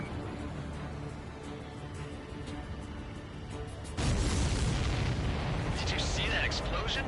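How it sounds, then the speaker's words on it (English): A supply ship blowing up in the combat flight game Ace Combat 7, a sudden loud rumbling blast that jumps over steady engine and wind noise and keeps roaring for a few seconds. "Did you see that explosion? Looks like that's one of them down."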